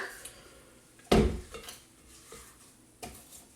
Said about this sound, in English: now I'm going to scrape down the sides of the mixer